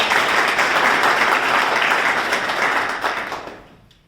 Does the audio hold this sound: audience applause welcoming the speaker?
yes